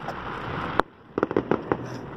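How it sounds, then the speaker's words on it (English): Fireworks going off at an outdoor show, a sharp loud burst followed after a pause by a quick series of crackling pops at moderate distance over a steady background hiss. "They're called fireworks."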